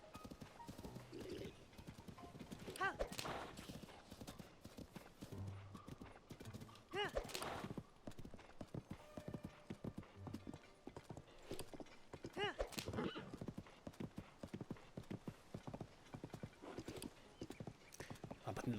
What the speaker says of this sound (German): Also ein paar Wildpferde, auch schön.